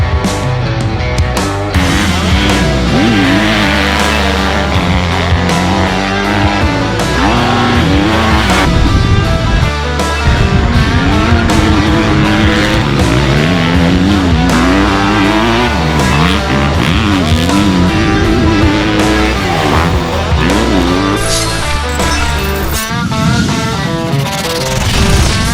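A 2022 Honda CRF250, a 250cc motocross bike, is ridden hard. The engine revs rise and fall continuously and loudly with a dense, sustained roar throughout.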